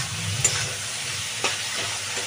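Fried potato pieces are stirred into sizzling spiced okra curry cooked with Maggi masala, a steady oily hiss running under a few sharp scrapes of the spoon against the pan.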